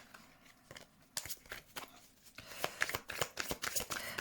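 Tarot cards are shuffled by hand for a reading, a run of soft riffling flicks and taps that turns louder and busier partway through, close and with no talking.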